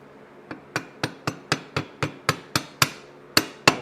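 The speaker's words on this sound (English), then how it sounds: "My dead blow here." A dead blow hammer taps parts into place while a Brunswick A/A2 pinsetter detector is reassembled in a garage: about a dozen sharp, close, evenly spaced strikes.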